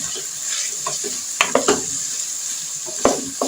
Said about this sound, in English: And to add the eggplant. And just stir them in a little.